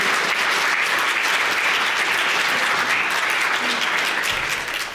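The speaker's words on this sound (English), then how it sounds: "give, first of all, a big applause to our guest speakers this afternoon" Conference audience applauding guest speakers in Berlin, a loud, sustained wash of many people clapping that stays even throughout and eases slightly at the very end.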